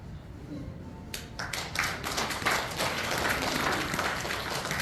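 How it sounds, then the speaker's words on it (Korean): An audience claps to welcome a newly appointed standing adviser at the launch ceremony of a Gwangju reunification group, scattered claps building into steady applause that fills the room under faint background voices. "박수로 환영드리겠습니다"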